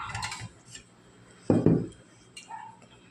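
A small plate is set down among dishes at a home lunch table: brief clinks of crockery and cutlery near the start, then a louder double clatter midway, with quiet gaps between.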